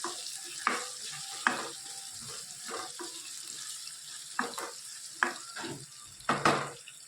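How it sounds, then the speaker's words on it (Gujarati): Ginger and chillies, with onion, fry in a pan with a steady sizzle. Stirring scrapes and taps come through at irregular intervals, close and moderately loud. "આદુ અને મરચાં એ બધાને આપણે સરસ શેકી લઈએ."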